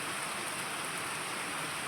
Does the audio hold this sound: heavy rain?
yes